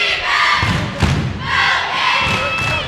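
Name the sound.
basketball crowd cheering loudly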